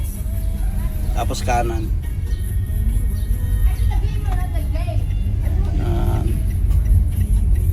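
A Toyota Wigo on a road test, its engine a steady low hum heard from inside the cabin as it drives along the road, while people talk over it.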